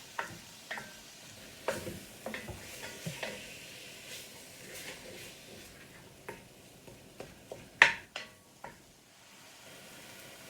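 American goulash being stirred in a cooking pan, a low steady sizzle under scattered scrapes and clicks of the utensil against the metal, one sharper clank standing out.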